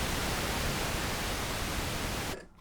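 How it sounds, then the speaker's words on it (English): A steady, full hiss of pink noise from a Minimoog Model D analog synthesizer holds evenly, then cuts off abruptly just before the end. "So we got your pink noise on the Model D."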